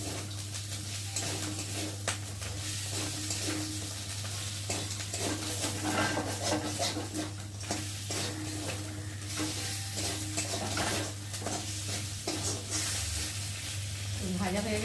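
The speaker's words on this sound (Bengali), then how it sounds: "মশলাটাও ভাজা ভাজা হয়ে গেল, মাথাটাও তার সাথে কষানো হয়ে গেল মশলার সাথে।" A spice paste and a fish head fry together in a pan, giving a constant near sizzle with a low steady hum beneath and repeated scraping stir strokes throughout.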